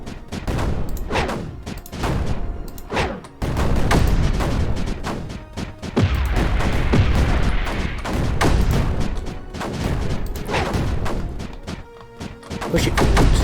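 A gun line fires in Creeper World 4, a loud, dense barrage of overlapping crashing blasts and thuds that runs continuously with brief dips, close and heavy throughout.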